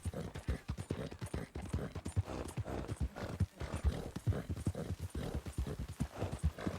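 Galloping horse hooves in Red Dead Redemption 2, racing from Strawberry to Saint Denis: fast, rhythmic hoofbeats pounding close and loud in continuous strides, alone without talk.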